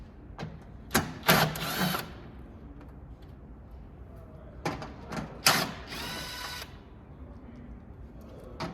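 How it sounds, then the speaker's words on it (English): Quick ratchet clicks in short bursts from a 10mm socket loosening the bolts of a Roborock S7 robot vacuum's cover, two separated clusters of fast ratcheting, close and fairly quiet, with pauses between. "you'll need a 10mm socket, and there's 2 bolts on the top and 1 on the bottom."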